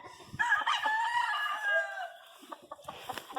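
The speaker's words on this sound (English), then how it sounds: "Harold Brown Buttermilk regular gray with a Gerard hatch cock" A gray gamecock rooster crows once, close and clear, in a long, drawn-out cock-a-doodle-doo. Soft clucks and rustling follow.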